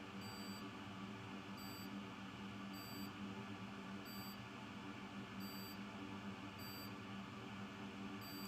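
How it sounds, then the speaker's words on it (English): A continuity tester beeps as its probes find connected CPU pads, a faint series of short, evenly spaced electronic tones repeating about every second over a steady background hum. "if I hear a beep, that means they're connected"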